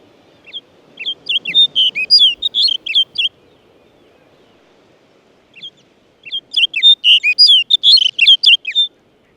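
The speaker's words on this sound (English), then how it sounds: "put it almost on the rock or just beneath it where the bird is singing" A bird sings two bright, rapid phrases of chirps and trills, close and clear, separated by a pause over a low, quiet background.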